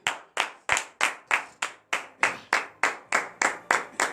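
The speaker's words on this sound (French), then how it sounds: "nous allons nous lever et donner de vives acclamations à notre Dieu" A congregation at a morning prayer service in Benin claps in unison, about a dozen sharp, evenly spaced claps in a steady rhythm, close and clear with no voices over them.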